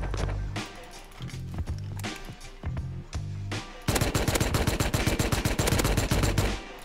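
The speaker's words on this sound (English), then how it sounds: "Oh, he's shooting at me." Rapid bursts of gunfire in the Rust video game, loud and close, with short clustered volleys giving way to a dense sustained barrage near the end.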